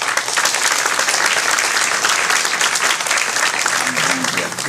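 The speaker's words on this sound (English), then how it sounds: "Let's go give everyone a round of applause." An audience at a coding competition claps steadily throughout, a dense, even wash of applause with a few faint voices mixed in.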